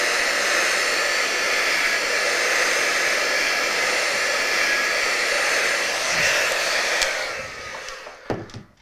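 Hair dryer blowing steadily to dry mounting foam on a handmade craft card, a loud continuous rush of air for most of the clip before it switches off near the end with a few handling knocks.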